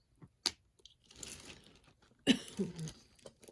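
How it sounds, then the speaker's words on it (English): A single short cough rings out amid quiet rustling and crinkling, followed by a faint throaty sound. "I think it's this jewelry that's making me cough."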